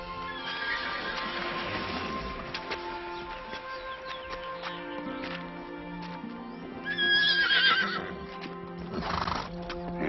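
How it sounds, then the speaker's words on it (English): A mare neighs and whinnies loudly, with hooves clip-clopping nearby in a steady uneven rhythm, and a louder outburst of whinnying near the end. "That little mare's worth more than any 10 horses in this county"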